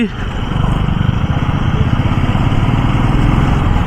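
A rider's own motorcycle runs steadily on the road, its engine drone continuous and fairly loud throughout with some wind rumble, no talk over it.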